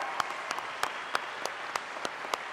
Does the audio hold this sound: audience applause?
yes